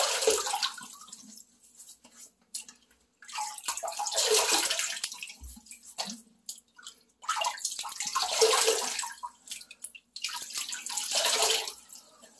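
A tap runs in bursts as water is scooped to wet the face before a shave, rushing splashes that swell and cut off several times with quiet gaps and faint drips between.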